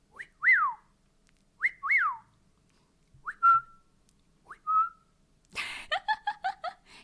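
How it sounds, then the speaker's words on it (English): A person whistles a short tune alone: several rising and falling whistled phrases with gaps between them, clear and close, ending in a quick run of short whistled notes. "I can whistle."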